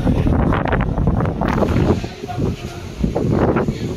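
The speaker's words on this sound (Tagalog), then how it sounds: "Ay, ang hangin talaga." Heavy wind buffets the microphone in steady, rumbling gusts at a beachside café on Bulabog Beach, Boracay, during monsoon season, with faint voices talking underneath.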